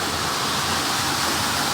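Water swirling in a natural whirlpool in a flooded cave, a steady, loud, unbroken rushing roar.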